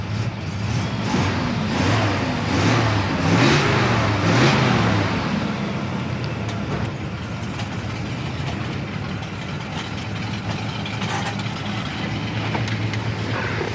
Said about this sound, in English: Today, Chad and I are going to be checking out and test driving this 1968 Chevy Impala